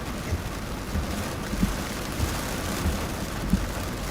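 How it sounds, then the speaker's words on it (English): Heavy rain pounds steadily on a vehicle driving through southeastern Oklahoma, a dense continuous roar with occasional low thumps and a faint wind rush, no voices. "John's driving through heavy rain in Oklahoma"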